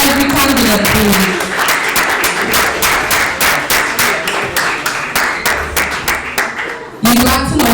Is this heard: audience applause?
yes